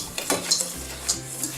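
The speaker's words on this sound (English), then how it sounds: "So, giant whisk. Give it a whisk. Whisk it around." A giant whisk swirls through dry bath bomb powder in a bowl, giving soft scraping strokes with a few light clinks against the side, close and fairly quiet.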